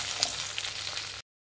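Spices sizzle and crackle in a hot pan, a steady close frying hiss with a few small pops, lasting about a second before cutting off.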